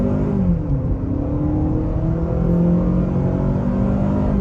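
A 2024 Honda CR-V Sport Hybrid pulls away at about half throttle on a road, its engine drone rising steadily and evenly beneath the cabin hum, moderately loud and continuous with no talking.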